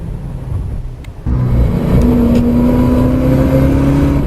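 A sports car accelerating, a quieter idle giving way to a sudden louder engine surge with a rising, steady tone held close by for a few seconds.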